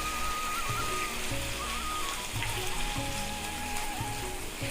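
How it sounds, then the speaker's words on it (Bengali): Chicken pieces fry over high heat and are turned in the pan, giving a soft, even, rain-like sizzle with light crackle, alongside a low rhythmic mechanical hum. "আমি একটু হাই করে দেব আঁচটা, দিয়ে একটু উল্টে পাল্টে একটু ভাজা করে নেব"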